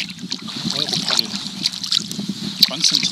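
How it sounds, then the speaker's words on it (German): A kayak on Steinhuder Meer is paddled with a Euro paddle, producing soft, quiet splashes and water swishes of blade strokes under a steady hiss of wind, with faint talking in the background. "Tatsächlich ist auch das Paddel mit dem Ding viel leiser."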